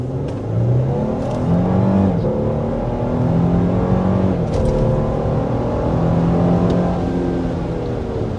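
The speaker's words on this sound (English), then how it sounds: "we want to go ahead and start with a hard acceleration" A 2024 Lexus GX 550 SUV engine revs and climbs through several gear shifts under hard acceleration to 60 mph, a steady loud drone with rising pitch sweeps heard from inside the vehicle.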